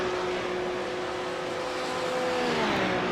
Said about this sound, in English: He accelerates out of pit lane. It's the Fred Flintstone's Porsche 911 GT3.